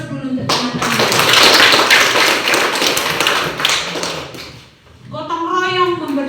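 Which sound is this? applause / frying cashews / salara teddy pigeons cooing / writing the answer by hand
applause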